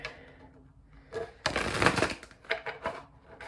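Playing cards being shuffled up close, with a soft riffle building into a dense burst of papery flutter, then a few lighter taps and slides.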